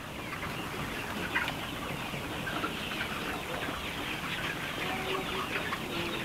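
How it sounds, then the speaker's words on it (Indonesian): Laying-hen chicks cluck and peep steadily in a crowded brooding pen, a dense continuous chorus of small birds at moderate loudness with no talk. "Ini kita pembesaran DOC ayam petelur."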